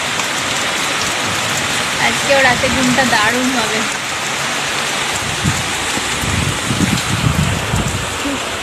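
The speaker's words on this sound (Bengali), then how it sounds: "দারুণ বৃষ্টি পড়ছে" Heavy rain pours steadily against windows during a night storm, a dense continuous hiss throughout, with a voice speaking softly over it partway through.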